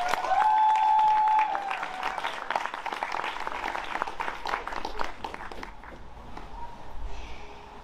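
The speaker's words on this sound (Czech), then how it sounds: "Svým potleskem prosím přivítejte Martinu!" Audience applause welcoming Martina onto the stage at a festival event, starting under a fading sustained tone and continuing as a steady patter of clapping that thins out toward the end.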